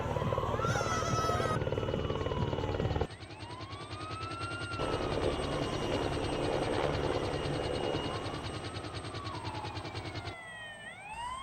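A military ambulance helicopter's rotor thumps steadily nearby at a stadium disaster simulation in the Czech Republic while emergency sirens wail and sweep up and down over the noise.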